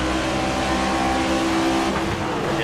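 NASCAR stock car engine in the racing video game NASCAR 25, a loud continuous drone with shifting harmonic pitch as the throttle eases and builds, close and steady with no talk over it.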